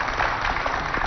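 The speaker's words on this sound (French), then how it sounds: "Ça s'applaudit quand même." Brief burst of audience applause in a Chadian television talk show studio, dense clapping from a crowd, close and steady for about a second.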